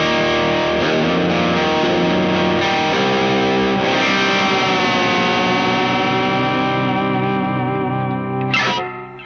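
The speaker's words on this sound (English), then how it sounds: "Baritone, slightly overdriven with lots of delay." A PRS baritone guitar played through an MJS Lucent Overdrive pedal, slightly overdriven with heavy delay, ringing sustained chords and repeating echoes that swell loudly and trail off, with a short pitch-bending squeal near the end.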